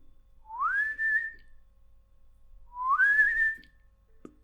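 Two rising whistles, each sliding upward and then holding a steady tone, separated by a short gap and with no other sound around them.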